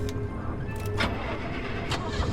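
A car engine starts up in the survival driving game Pacific Drive, cranking and catching into a mid-pitched running drone over a steady noisy background, with a few brief clicks on top.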